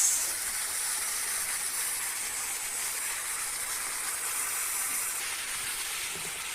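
Steady, bright sizzling hiss of onions frying in a hot pan, continuous and close, with no talking.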